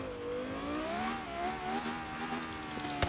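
A Lexus LFA running its stock engine revs with a smooth, rising and falling tonal whine, moderately close, the pitch climbing and wavering, with a sharp click near the end.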